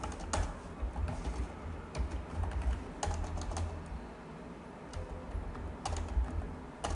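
Rapid typing on a computer keyboard during Excel data entry, with clusters of sharp key clicks and brief pauses, close and steady over a low background hum.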